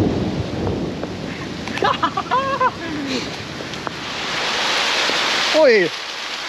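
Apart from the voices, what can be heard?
rain on a bridge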